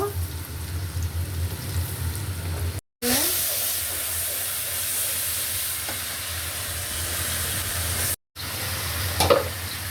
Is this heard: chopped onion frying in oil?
yes